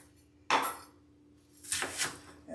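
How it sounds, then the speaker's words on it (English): A knife cutting slices into quarters on a cutting board, two or three close, sharp chops separated by brief pauses. "I take those slices, cut them in half, and half again for quarters."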